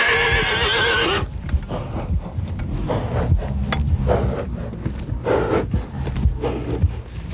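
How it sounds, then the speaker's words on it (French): Breton draught horses whinny loudly at the start, then heavy hooves clip-clop in an irregular rhythm on a hard surface, close and resonant with shuffling in between. "ils sont en train de préparer leur cheval"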